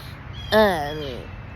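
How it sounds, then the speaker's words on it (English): A crow gives a single loud, drawn-out caw close by that fades over about a second against quiet background noise. "this crow that is talking, of course, I don't know if you can hear him"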